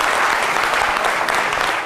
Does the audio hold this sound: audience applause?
yes